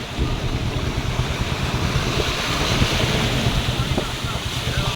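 Floodwater from heavy rain rushes over a village road in a loud, continuous roar, broad and steady, with wind buffeting the microphone throughout.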